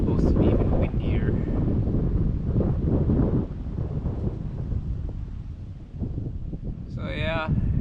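Gusty wind on the North Saskatchewan River buffets the microphone with low rumbling, rising and falling in strength while a person talks over it.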